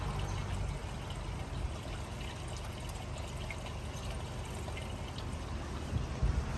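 Water runs steadily through a hydroponic garden system, a continuous close rush and trickle that holds an even level for the whole stretch, with no voices.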